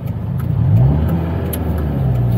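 A Lotus S2 111S sports car with a 160 hp engine pulls away in first gear, its engine note rising loudly as it revs up, heard close from inside the car.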